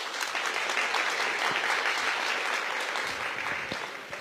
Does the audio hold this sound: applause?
yes